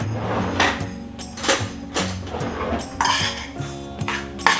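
Sugar being mixed into a batter in a bowl: a utensil scrapes and clinks against the bowl in quick repeated strokes, close and fairly loud, with no talk.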